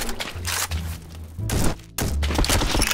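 Loud bursts of rapid gunfire in the online shooter game Bad Business, in dense volleys with a brief pause midway and no speech.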